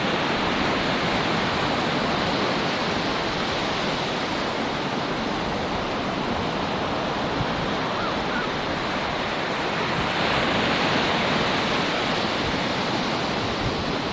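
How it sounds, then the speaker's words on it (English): Ocean surf breaking on a shore makes a loud, unbroken roar of white water that holds steady throughout, with no voices above it. "Nice waves."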